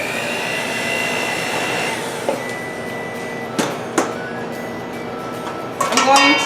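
An electric mixer blends flour into wet batter for apple fritter bread, a steady motor whir for about two seconds, followed by a few sharp clinks and taps against the bowl and a louder clatter at the end.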